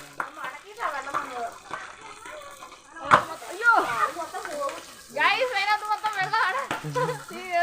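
Hot candle wax mixed with water crackles and sputters in quick irregular pops beneath continuous nearby talking, the spitting growing busier toward the end.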